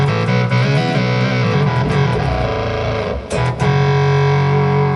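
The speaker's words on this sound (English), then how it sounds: "So Synthomatic is a really good one to check out if you're looking for synth tones in the HX Stomp." A buzzy, distorted synth tone from the Synthomatic effect on a Line 6 HX Stomp plays as sustained notes with a brief dip midway, loud and up front with no talking.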